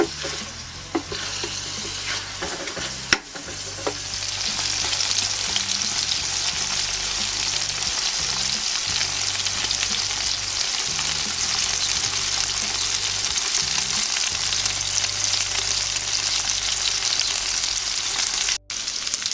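Garlic fries in a paella pan on a mini kamado grill, giving a loud continuous sizzle and hiss for a long stretch, with occasional clicks of stirring and no talk.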